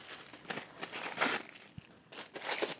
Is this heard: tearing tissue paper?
yes